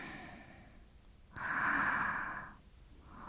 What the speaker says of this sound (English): It's a girl snoring.